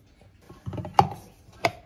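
A small press-operated electric food chopper for grinding spices, with a tiny bowl and no switch, whirs briefly in short bursts close by, with sharp clicks as it is pressed and released.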